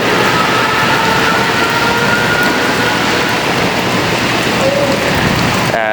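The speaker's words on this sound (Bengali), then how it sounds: "এখন প্রচুর বৃষ্টি শুধু বৃষ্টি না প্রচুর পরিমাণে বৃষ্টি হচ্ছে" Heavy rain pours down steadily in Dhaka, a loud, dense, continuous hiss of drops hitting surfaces, with no voices heard.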